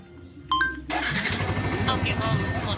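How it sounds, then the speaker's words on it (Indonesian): A motorcycle engine catches and settles into a steady idle after a short electronic beep sequence from a voice-command starter, close and fairly loud, running on alone for the rest of the moment. "Nyalakan motor."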